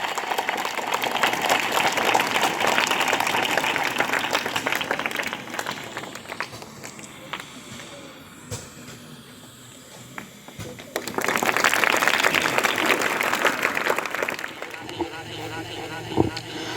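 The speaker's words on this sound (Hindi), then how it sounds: "जोरदार तालियों से स्वागत कीजिए" Audience applause welcoming a guest to a student Q&A session, broad and sustained for several seconds, easing off midway, then swelling loudly again before fading, with some speech mixed in.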